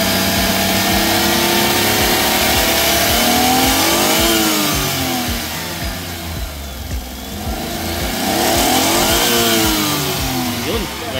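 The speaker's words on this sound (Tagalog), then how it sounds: "subukan natin i-rev" A Suzuki DR17V 4x2 tiptronic engine revs up and falls back twice, its pitch climbing and dropping in two clear sweeps over a steady idle, loud and close, with no talk.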